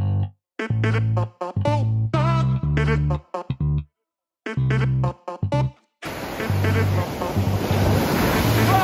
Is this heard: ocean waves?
yes